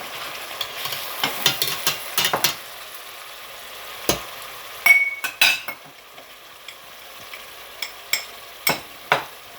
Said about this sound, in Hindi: इन मसालों को चॉप किए मसालों को हमने अच्छी तरह हिला लेना